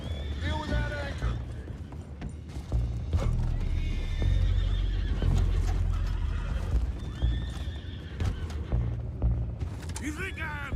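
Horses whinny and neigh repeatedly amid clopping hooves and commotion in the video game Red Dead Redemption 2, with people shouting over the busy scene.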